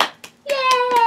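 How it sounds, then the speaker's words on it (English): A small child claps along during story time at home, a few soft separate claps near the mic, alongside a voice and a sustained sung or hummed tone. "Clap your hands."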